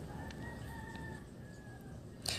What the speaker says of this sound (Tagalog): So, ayan ang ingay ng ating mga manok.